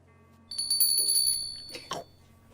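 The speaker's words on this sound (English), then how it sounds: "At the same moment, the customer warning bell rings." A customer warning bell in a shop rings with bright, sustained high tones from about half a second in. A clatter and a short burst near the end follow, and everything stays fairly quiet overall.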